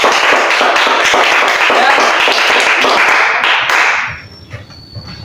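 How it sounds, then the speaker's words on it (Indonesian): Classroom of students clapping their hands together, a dense burst of rapid applause that fills the room for about four seconds and then stops abruptly, leaving quiet room tone and a short spoken word. "Tepuk tangan"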